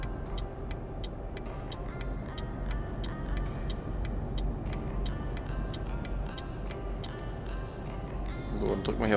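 A truck engine in Euro Truck Simulator 2 with Promods and Rusmap, driving at night in Brest, gives a steady low drone that swells near the end, with a regular ticking running over it.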